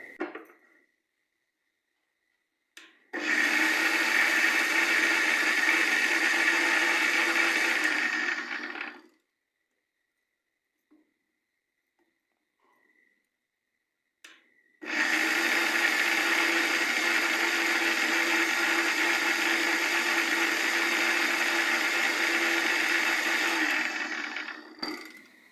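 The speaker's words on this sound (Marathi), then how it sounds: "मी मिक्सरला लावून घेते." A kitchen mixer grinder blending green chillies, ginger and coriander into a green paste runs in two loud, steady bursts of about six and ten seconds each, with quiet pauses and small clicks in between.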